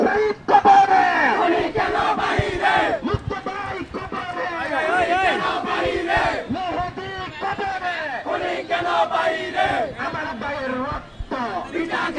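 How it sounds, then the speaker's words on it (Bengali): A crowd of students chanting slogans at TSC, Dhaka University, loud rhythmic shouted call-and-response voices at a protest, continuous and close throughout. "স্লোগানে মুখরিত বিভিন্ন স্লোগানে মুখরিত টিএসসি ঢাকা বিশ্ববিদ্যালয় এলাকা"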